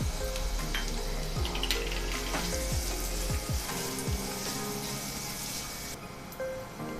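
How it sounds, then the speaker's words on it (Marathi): Finely chopped onion sautéing in hot oil in a pan, a steady close sizzle with repeated scraping stirs of a spatula throughout, no voices. "बारीक चिरून घेतलेला कांदा काढून घेऊया आणि हलका सोनेरी रंग येईपर्यंत परतून घेऊया"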